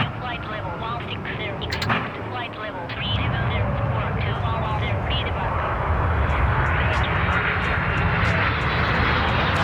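Airliner jet engines in the ATC4 air traffic control game at Tokyo Narita airport roar as a broad, loud, steady drone that swells partway through, with a person talking over it.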